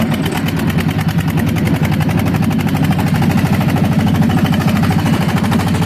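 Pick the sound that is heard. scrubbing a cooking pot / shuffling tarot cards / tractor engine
tractor engine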